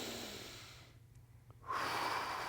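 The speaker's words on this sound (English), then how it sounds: "and I'm just going to try to breathe." A single breath during a hip bridging exercise, heard as a soft airy inhale that fades into a short quiet pause before a stronger exhale, close and alone.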